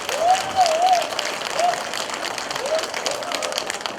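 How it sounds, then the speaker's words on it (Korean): A crowd at a unification lecture and Pyongyang arts troupe performance breaks into a big round of applause, steady dense clapping throughout with a voice briefly heard over it. "큰 박수 부탁드리겠습니다"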